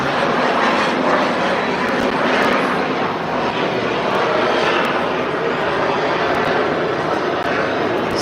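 A jet aeroplane hovering at the Bray Air Display gives a loud, sustained engine roar with broad rushing noise that holds steady, slightly swelling and easing, with no voices over it.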